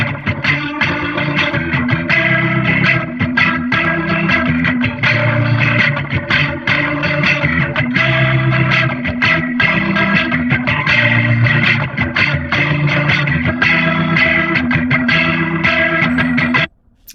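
Electric guitar run through a Waterfall rotary speaker effect plugin, a dense, continuous distorted wash with swirling chorus-like motion, loud and steady before stopping abruptly at the end.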